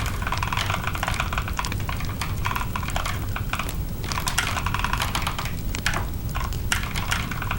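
Fast, continuous typing on a computer keyboard, with dense clattering keystrokes close to the mic and a few brief pauses between bursts over a low background hum.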